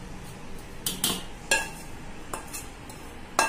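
A spoon works roasted wheat flour around a pan, giving a handful of short, sharp metallic clinks and knocks spaced irregularly over a quiet background.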